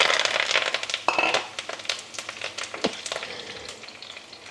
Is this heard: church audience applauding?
no